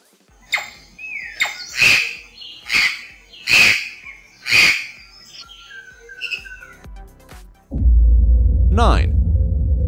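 Jay calls: a run of about five harsh, loud squawks in steady rhythm, then softer chirps and whistles, before a sudden low rumbling noise takes over.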